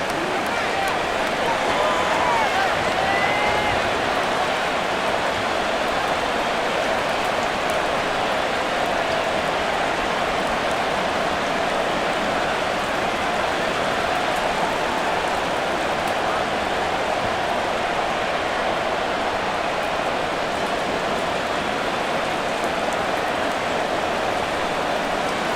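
Rain pours on a football field in Madden NFL 24 as a dense, even hiss that never lets up. It runs steadily under a commentator's voice.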